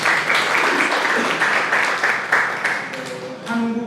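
An audience at an academic presentation applauds to welcome Changwon National University professor Lee Jang-hee, a dense, steady round of clapping lasting about four seconds and easing slightly toward the end.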